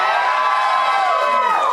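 A studio audience at a dating show cheers and whoops loudly, a dense crowd roar that stays strong throughout.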